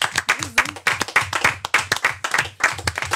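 Hand clapping at a live televised arts show, a rhythmic series of fairly close claps mixed with some voices, fading and rising over a few seconds.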